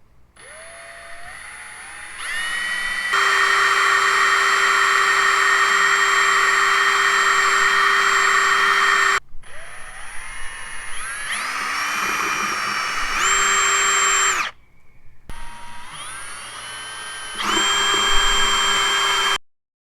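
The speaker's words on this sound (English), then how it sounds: "what we're gonna be doing now is drilling out the bolts that are stuck" A power drill whines in long sustained runs, pitch shifting as it bites into stuck metal bolts on a Nissan R50 Pathfinder's hubs, stopping briefly twice before spinning up again.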